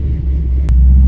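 An LS-swapped C10 pickup truck idling and warming up, a loud deep low rumble that swells slightly louder partway through, with a brief sharp click over it and no talking.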